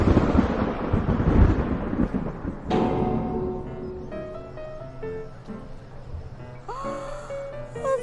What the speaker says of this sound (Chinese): 还好好的，怎么突然就打雷下雨了？